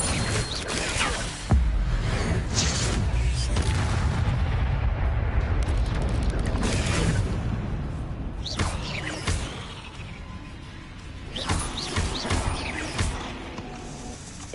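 Incendio fire spell cast repeatedly in Hogwarts Legacy, heavy booming blasts and crackling bursts at irregular intervals, loud and close, with a rumbling roar of flames and combat noise between them and no talk.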